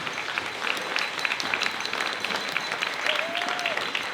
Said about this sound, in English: Once again, everybody give a round of applause